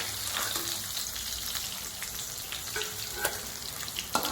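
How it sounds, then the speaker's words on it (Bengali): Pieces of katla fish frying in hot oil in a home kitchen give a steady, crackling sizzle, with sharp pops and a few light clinks of a utensil stirring and lifting the fish. "একদম মাছ ভাজাটা হয়ে গেছে।"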